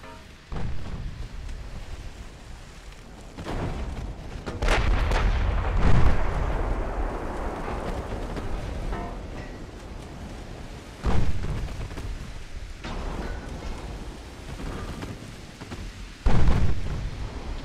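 Heavy naval guns boom in a naval battle in the warship strategy game Ultimate Admiral: Dreadnoughts, with loud deep blasts near 5, 11 and 16 seconds rolling into long rumbling echoes over a constant low battle drone.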